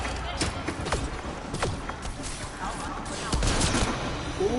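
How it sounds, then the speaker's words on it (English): Rapid gunfire in a video game, with sniper rifle shots mixed into a busy battle: sharp repeated cracks over a dense, constant background of game action. "let's try my sniper rifle"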